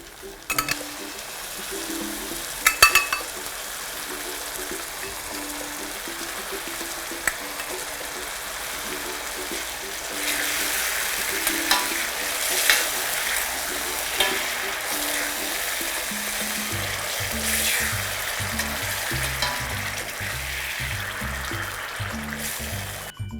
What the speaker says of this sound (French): Maintenant, j'ajoute la tomate à l'oignon.